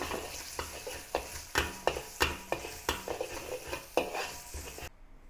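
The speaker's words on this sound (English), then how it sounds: "Saute the garlic, ginger, and the spring onion with the remaining oil." Garlic, ginger and spring onion sizzle in hot oil in a wok while a utensil scrapes and stirs rhythmically, about a dozen strokes, before the sizzling cuts off.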